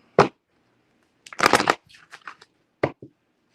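A deck of playing cards is shuffled in a few short, crisp riffling bursts separated by brief pauses, close and alone in a quiet room.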